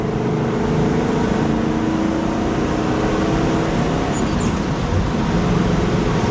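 A 1973 Pontiac LeMans Sport Coupe accelerating hard, heard from inside as a steady loud engine and road roar that holds constant throughout, with no talking.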